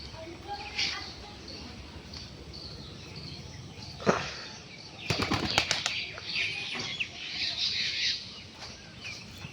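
Pigeons in a sunny loft flap their wings in several sharp bursts, one loud clap followed by a cluster of rapid flutters, close by amid faint chirps and quiet background.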